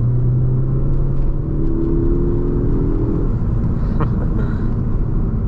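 A Ford Focus ST with an EcoBoost engine pulls hard in third gear, a loud steady interior drone whose pitch climbs over several seconds before levelling off, with no talk.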